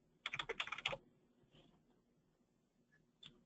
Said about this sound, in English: you can actually go in and type in a patient's name